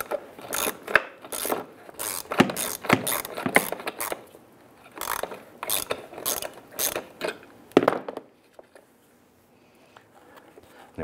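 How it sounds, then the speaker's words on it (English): A hand ratchet with a 13 mm socket loosens a nut while removing the front bumper cover of a 2005-2010 Chrysler 300. It gives close, bursty clicking runs for about eight seconds, then falls quiet. "When you use a 13 millimeter socket, go ahead and remove this nut right here."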